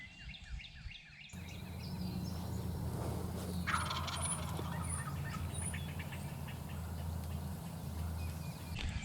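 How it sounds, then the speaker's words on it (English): Wild turkey gobbling from a field during a turkey hunt: a few rattling gobbles, fairly distant and faint, rise over a steady low outdoor rumble with occasional small bird chirps. "Bird just gobbled right here."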